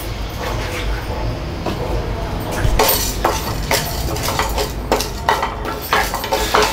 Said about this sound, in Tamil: 3 பல் பூண்டு, பட்டை, கடலைப்பருப்பு, எள்ளு, இது எல்லாத்தையுமே நம்ம வந்து நல்லா வறுத்துக்கலாம்.